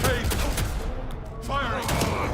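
Gunfire in Vampire: The Masquerade Bloodlines 2, a steady barrage of rapid shots running throughout, loud and close, with shouting voices over it.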